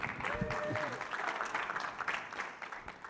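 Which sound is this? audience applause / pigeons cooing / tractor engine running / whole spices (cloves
audience applause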